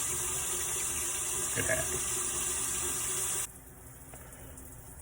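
Water pours from a tap in a steady, loud hissing rush, then cuts off abruptly, leaving a quieter background. A voice briefly speaks over the flow.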